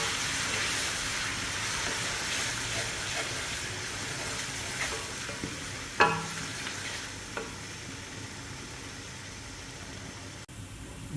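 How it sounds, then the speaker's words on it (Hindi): Onions, garlic and green chillies fry in a pan for masoor dal, giving a steady, quiet sizzle with a few sharp scrapes and clinks as the mixture is stirred. "लहसुन और हरी मिर्चें भी अच्छी तरीके से इसमें फ्राई हो चुकी हैं"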